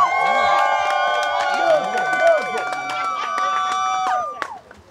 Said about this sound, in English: Cheer them on, cheer them on.